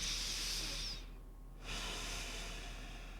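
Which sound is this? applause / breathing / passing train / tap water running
breathing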